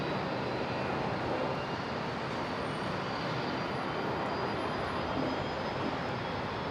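A jet taking off from runway 01 left at Brisbane Airport, a broad, steady engine roar heard from a distance, holding constant without a break.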